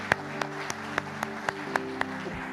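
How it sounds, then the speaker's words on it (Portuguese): Audience applause at a church service, heard as sparse sharp claps at a steady rhythm over sustained musical tones, fairly close and distinct rather than a dense crowd wash. "Dê um aplauso, Senhor, pela vida da Luísa."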